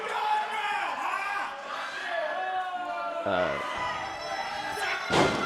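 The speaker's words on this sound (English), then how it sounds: "And just stomping away at the hands." A wrestler stomps on an opponent's hand at a live AEW match, heavy thuds landing amid a loud booing crowd and a continuous arena roar, with one sharp slam near the end.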